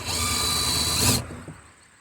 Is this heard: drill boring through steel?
yes